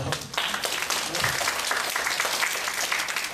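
An audience at a lecture on suicide prevention and respect for life applauds student guidance teachers, a dense, steady clapping from a crowd that runs throughout, with faint voices mixed in.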